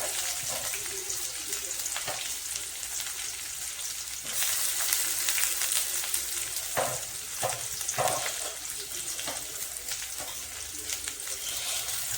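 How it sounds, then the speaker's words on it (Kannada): Chopped onion with curry leaves frying in a pan for a ridge gourd palya, making a continuous dense sizzle with spatula scrapes and stirring knocks at intervals. "ಉಳ್ಳಾಗಡ್ಡಿ ಕಟ್ ಮಾಡ್ಕೊಂಡು ಹಾಕಿ ಚಲೋ ಹುರ್ಕೋಬೇಕು."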